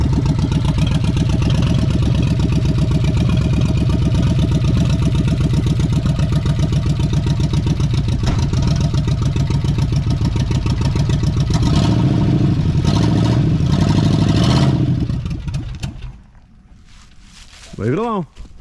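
A 1979 Chevrolet C10 engine runs steadily and loudly just after its first start, a rough idling rumble with some clatter for about fifteen seconds before it cuts out, followed by a brief faint sound.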